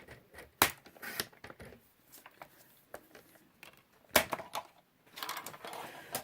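A paper trimmer slices cardstock for a stamped trifold shutter card, giving sharp close clicks and scraping swipes in a few separate bursts with quieter handling sounds between.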